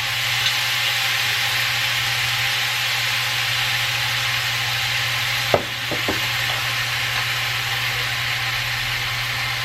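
Food sautéing in a pan with a bay leaf added, a steady broadband sizzle holding at an even level throughout, with a few soft clinks midway and no talking.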